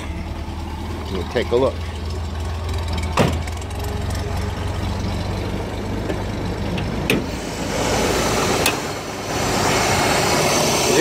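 A 1966 Corvair engine cranks, catches and settles into a steady close idle fitted with a Summit Racing fuel pressure regulator, with someone talking briefly over the running engine.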